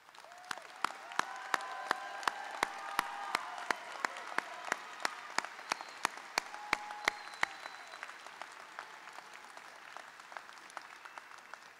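A large audience at a San Jose State University graduation ceremony applauds the honor students, a steady wash of many hands clapping with sharp, distinct claps standing out. The applause is sustained throughout and fades slightly toward the end.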